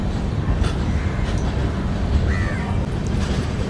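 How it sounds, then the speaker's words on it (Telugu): A new Humsafar weekly express train stands at Gudur junction with a steady, loud low rumble and rolling rail noise, a faint squeal and a crow cawing somewhere nearby, and no talk. "గూడూరు జంక్షన్లో మన ట్రైన్ వచ్చేసి చాలా ముందుగా అయితే వచ్చేసింది"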